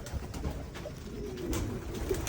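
A pigeon coos softly and briefly during a free-fly recall, low murmuring calls set against faint outdoor background noise.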